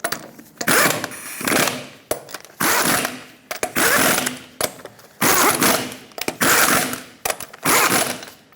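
A torque wrench tightens the wheel lug nuts on a 2000-2005 Ford Excursion during a rear brake job, rapid ratcheting clicks in about seven regular bursts with short pauses between, close and fairly loud.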